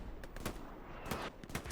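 Artillery fire and gunshots in the World War II shooter Hell Let Loose during a competitive match on the Carentan map: repeated sharp booming blasts in quick succession, mid-distance, over a rumbling battlefield bed.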